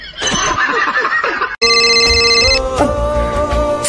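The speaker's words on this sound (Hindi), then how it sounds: "फोन उठा।" A telephone rings loudly with a trilling bell-like tone, breaks off briefly, then resumes as a bright electronic ringtone melody.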